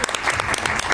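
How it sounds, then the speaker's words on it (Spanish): An audience at a live-streamed community communication workshop applauds a featured expert with dense, steady clapping, loud and close throughout the brief moment. "Le quisiera pedir un aplauso y una felicitación especial a Mariana"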